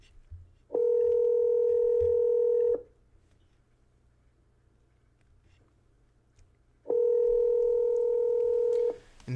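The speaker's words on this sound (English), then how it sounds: "We can keep ringing, and it's never going to pick up." Two long, steady electronic ring tones from a phone calling an automated system that never answers, each lasting about two seconds with a long silent gap between them, clear and alone.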